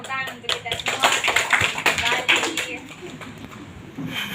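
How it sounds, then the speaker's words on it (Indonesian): Scattered hand claps from a community meeting audience on a waste-management outreach session in an Indonesian neighborhood, a loose burst of taps and claps with some talk mixed in, fairly close and moderate in level. "Tepuk tangan untuk kita semua."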